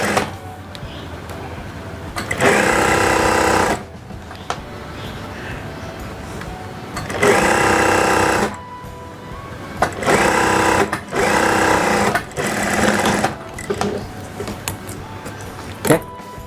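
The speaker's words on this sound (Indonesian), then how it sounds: "saya jahit bagian ujung sini" A sewing machine stitches the collar edge of a kebaya in four loud close bursts of rapid whirring, separated by quiet pauses with faint handling noises.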